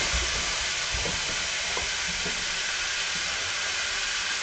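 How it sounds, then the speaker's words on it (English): Beef short ribs sear meat side down in a hot pan, giving a steady, close, hissing sizzle that holds evenly throughout with a few faint low knocks underneath. "Now I'm putting it the meat side down, and I'm going to get a good sear on it."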